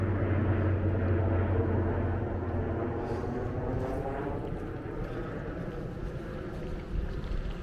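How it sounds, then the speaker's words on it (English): An airplane passing overhead along a snowy Stockholm shoreline, a steady broad low roar that gradually fades, with some wind noise and no talking. "Oh, an airplane."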